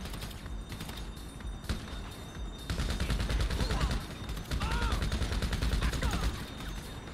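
Rapid, continuous fire from a combat armor-piercing machine gun in GTA during a heist, loud dense bursts that intensify midway and keep rattling steadily, with brief speech mixed in.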